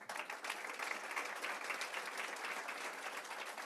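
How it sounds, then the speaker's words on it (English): A conference audience applauds a panel that has just finished, producing a brief, even patter of many hands clapping together, heard from a little distance with no voices over it. "If we can give another big round of applause."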